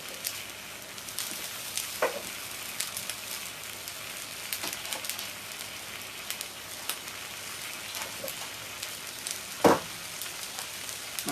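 Bhuna curry sizzling and frying in a pan over high heat, a steady crackling hiss with scattered louder pops and spits, heard close and alone.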